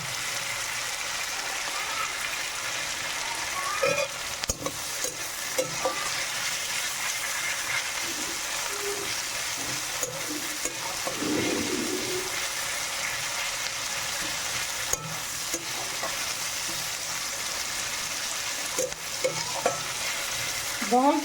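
Greens (bhaji) fry in a pan with a constant sizzle and hiss, punctuated by repeated spatula scrapes and clinks as they are stirred, close and steady for a long stretch without talk.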